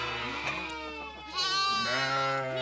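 Lambs bleat up close in a farm pen, several high wavering cries one after another, with a louder bleat in the second half.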